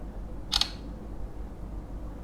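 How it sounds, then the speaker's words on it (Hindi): A single brief shutter click from a Tecno Pova 2 phone camera, a crisp snap over a quiet room background. "तो सबसे पहले मैं एक पिक्चर क्लिक कर"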